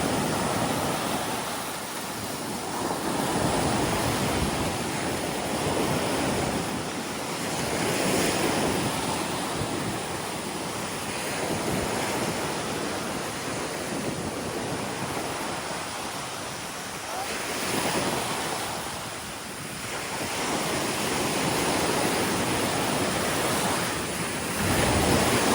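Ocean waves on the coast of Boracay island in the Philippines roll in as steady, loud surf with slow swells rising and falling, mixed with wind noise on the microphone and no clear talk.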